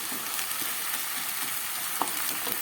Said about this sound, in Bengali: আমি মশলাটা খুব ভালো করে কষিয়ে নেব